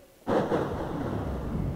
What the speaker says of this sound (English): You're not afraid of a thunderstorm,